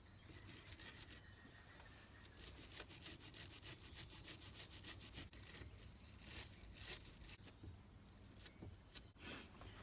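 Rough, rhythmic back-and-forth scrubbing strokes as rust is worked off a car rocker seal, close and fairly faint, with bursts of rapid rasping and brief pauses between them.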